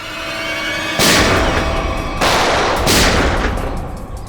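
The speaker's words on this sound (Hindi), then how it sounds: "गोली की चलाई, सुन लो।" Two loud gunshots ring out about a second apart, each a sharp blast with a long echoing decay, over a low steady background rumble.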